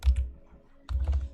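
Quick bursts of typing on a computer keyboard, two clusters of close, crisp key clicks separated by a short pause, entering a name while switching between keyboard languages.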